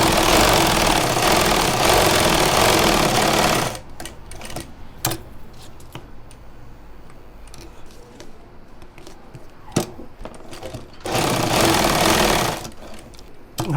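A sewing machine stitches a collar in two loud, fast-running bursts at the start and near the end, with a person talking during the quieter stretch between them.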